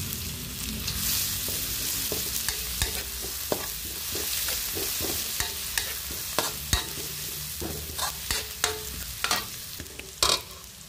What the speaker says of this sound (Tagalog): Igisa ko na ang bawang. Isunod ko na ang sibuyas.